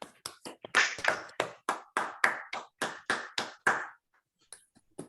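An online audience of a few people claps for a speaker at a math lecture, giving about a dozen distinct, fairly close claps in an uneven rhythm before they trail off.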